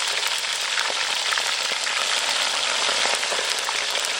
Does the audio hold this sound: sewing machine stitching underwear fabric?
no